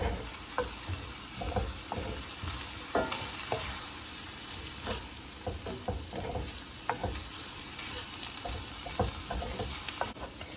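Lean ground turkey and chopped onion frying in a pan, a soft steady sizzle broken by repeated scraping stirs, fairly quiet and without talk.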